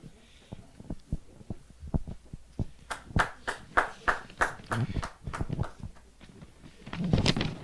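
An audience at a Hindi poetry gathering claps in a steady rhythmic beat that swells louder in the middle, then thins into scattered claps before a brief burst of mixed crowd noise at the end.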